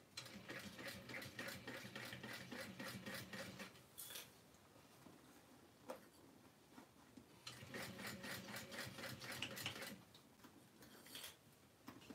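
A sewing machine stitches a curved seam on a rose-themed handbag, running in two sustained, fairly loud bursts of rapid mechanical whirring separated by a quieter pause with a few faint clicks.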